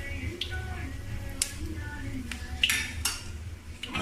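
Fennel seeds, star anise, cloves and mustard seeds stirred in hot oil in a pan, several light metallic clinks and taps of a spoon against the pan over a quiet low background.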